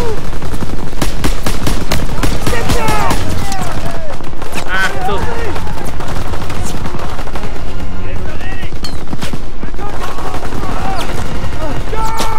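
Rapid bursts of gunfire in Call of Duty fill the scene, loud and continuous, with machine-gun rattles and single shots under excited voices and background music.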